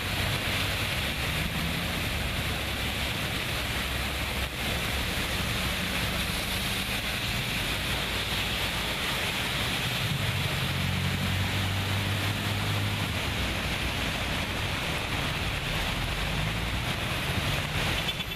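The María Aguilar river in San José, flooded and overflowing its banks after heavy rain, gives a continuous loud roar of rushing water, steady and unbroken across the whole stretch, with no voices.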